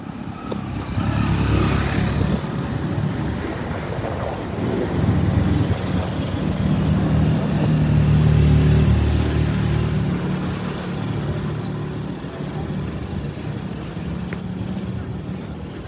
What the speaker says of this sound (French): je vais prendre la moto pour Ndokoti